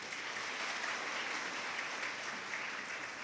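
Audience applause at a Women's Day gathering, a dense, even wash of many hands clapping, moderately distant and sustained throughout with no voices standing out.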